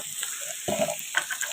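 Vegetables fry in a pan with light spices, a steady close sizzle with brief stirring scrapes and crackles, no talking.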